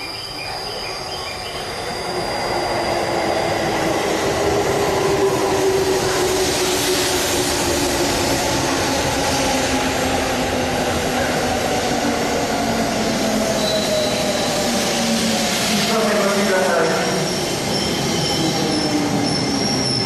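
A Tokyo-bound eight-car Musashino Line train rumbles and rolls through Koshigaya-Laketown station platform 2, wheels squealing and screeching at length, loud and close, without talk.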